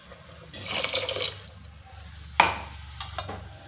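Water poured into a simmering gravy in a pressure cooker makes a brief splashing gush, followed by a sharp clink and a few faint liquid stirs against a low background hum.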